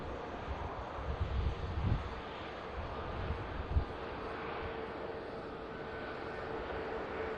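A Pegasus airliner bound for Istanbul taxis at Manchester Airport, its engines a steady, fairly distant broadband roar with low rumbling swells and some wind noise across the microphone.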